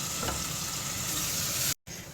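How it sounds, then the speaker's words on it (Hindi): Two chopped onions frying in hot cooking oil for beef kaleji, a loud, steady close-up sizzle that cuts out briefly near the end before resuming. "चॉप करके हम गरम ऑयल में डालेंगे और इसे हम फ्राई करेंगे"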